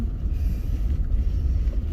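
Strong wind roaring steadily against a vehicle driving a highway in a blizzard with zero visibility, a loud continuous low rumble and buffeting throughout with no talk.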